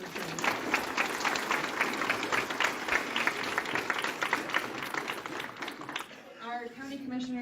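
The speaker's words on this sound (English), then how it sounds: "So a round of applause for them" Sustained applause from a crowd honoring firefighters after a wildland fire near Monte Vista, steady dense clapping for about six seconds before it fades and a voice starts speaking.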